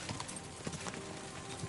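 Horse hooves clip-clop in Kingdom Come Deliverance 2, a faint, steady run of hoofbeats over a low background bed.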